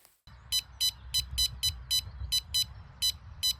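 Electronic bite alarm on a spring pike-fishing bank, emitting about eleven short, sharp, evenly spaced beeps over a low outdoor rumble of wind and movement, with no voices.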